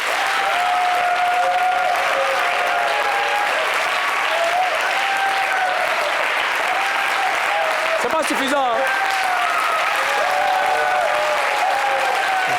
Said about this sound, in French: j'ai pas entendu d'applaudissements